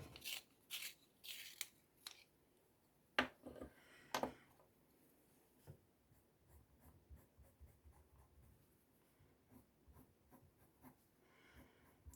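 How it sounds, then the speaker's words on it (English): A coloured pencil burnishes white and lilac over paper in quick flicking strokes, giving faint, close scratchy rubs in short bursts with a few sharper ticks, in an otherwise quiet room. "I'm going to be burnishing with the white"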